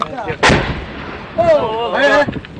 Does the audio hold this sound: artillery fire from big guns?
yes